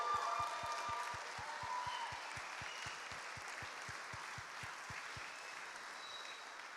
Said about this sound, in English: Can we give them a massive round of applause, please?